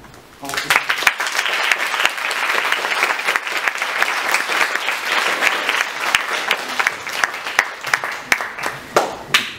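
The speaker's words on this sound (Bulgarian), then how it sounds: "Затова всички те заслужават аплодисменти." An audience breaks into loud, sustained applause with dense, overlapping clapping that swells quickly and holds, thinning toward the end, with some voices mixed in.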